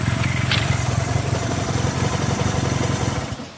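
A 1971 Honda CB175 Super Sport parallel-twin motorcycle engine runs close by with a steady, rapid pulsing idle, then fades out at the very end.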